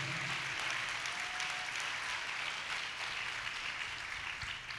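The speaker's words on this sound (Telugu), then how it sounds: "గట్టి చప్పట్లు కొట్టి దేవుని మహిమపరుద్దాం" A church congregation clapping loudly together, a dense, continuous wash of applause that holds steady throughout with no speech on top.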